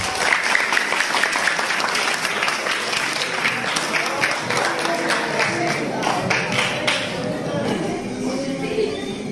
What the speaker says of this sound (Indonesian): Silakan, tepuk dulu.